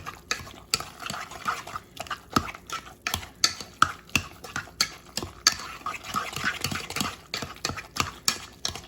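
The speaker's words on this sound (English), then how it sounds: "we are going to just keep letting that melt and mash" Cooked sweet potatoes for a casserole being mashed in a pot as butter melts, giving a steady run of close, sharp utensil clanks and scrapes against the pan with no talking.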